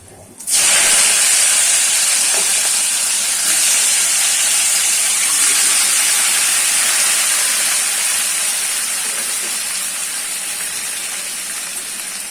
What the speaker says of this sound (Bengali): কড়াইতে টমেটোটা দিয়ে দিলাম।